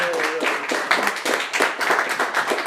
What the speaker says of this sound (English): Really, everyone should just give them another round of applause.